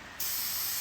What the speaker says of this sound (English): being a spray adhesive